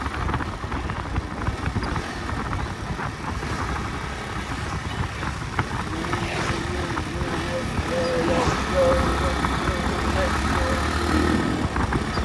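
A CP110 motorcycle engine drones continuously while climbing uphill on a group ride, a steady mid-pitched hum with wind noise, heard under a rider talking throughout.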